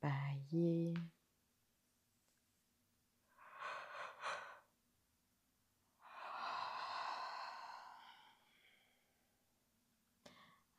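During a gentle yoga routine, a person breathes audibly, with a short exhale, then a longer drawn-out yawn with a breathy, sighing release, all close and quiet between silences.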